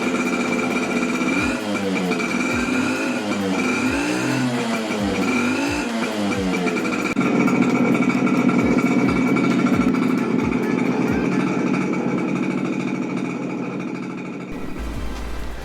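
A Suzuki AX 100 motorcycle engine, converted from 6 to 12 volts, revs up and down repeatedly, then settles into a steady idling putter close by before cutting out at the end.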